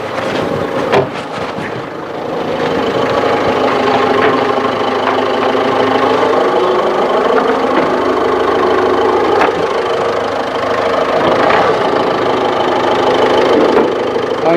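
A 2017 Ford Ecosport Titanium idles close by, a steady, smooth mid-pitched engine hum with a faint vibrating rattle that holds even and unbroken.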